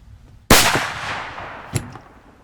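A single loud, close shotgun blast firing a slug, with a sharp crack and a long decaying boom, followed about a second later by a fainter secondary bang, otherwise quiet.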